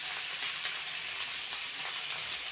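Ginger, garlic and cumin paste frying with tomato in a home kitchen pan, giving a steady, dense sizzle that holds evenly close up with faint stirring and no voices.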